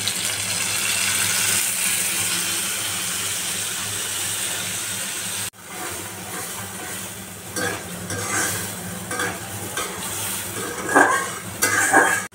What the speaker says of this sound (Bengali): মশলাটা সুন্দর মতো কষানো হচ্ছে